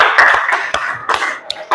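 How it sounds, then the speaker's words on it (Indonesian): A few students in a classroom clap in scattered, uneven bursts of sharp hand claps, close by, with brief gaps between them. "Tepuk tangan buat"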